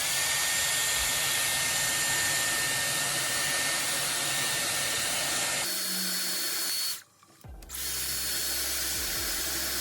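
A Dyson Airwrap blows hair dry with a loud, steady whirring hiss, changing pitch midway, cutting out briefly near the end and then starting again.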